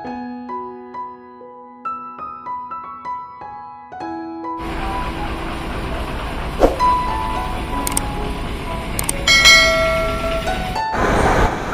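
Train activity at Pune railway station, with a melodic chime or tone sequence at first, then a broad loud rumble and clatter of station and train noise filling the rest, with a few bright tonal squeals near the end.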